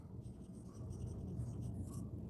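A marker or chalk scratches quietly across a board during a class 9 circles geometry lesson, in soft continuous strokes with no talking.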